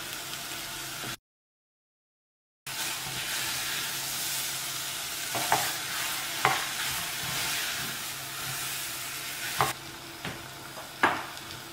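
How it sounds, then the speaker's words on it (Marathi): Boiled beef mince for Goan kheema rice sautéed in a pan, a steady sizzle and fry with scattered scraping clicks of the spoon as it is stirred, close and continuous, broken by one brief silent gap. "आमी न्हू आतां आमचो बॉयल्ड मिन्स घालया आनी सॉटे करुया फॉर ऑलमोस्ट 1 or 2 minutes."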